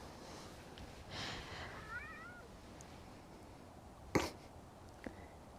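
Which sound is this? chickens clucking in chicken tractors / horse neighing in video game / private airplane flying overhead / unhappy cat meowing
unhappy cat meowing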